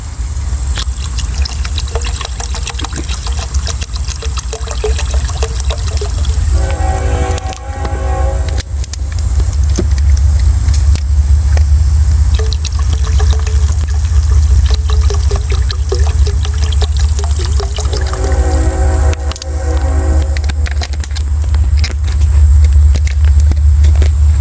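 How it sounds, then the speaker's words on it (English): Water is poured into a cast iron pan of ramen noodles: a long, steady splashing stream over a low rumble, with two brief stretches where the tone rises as the liquid fills. "I'll probably add some water now."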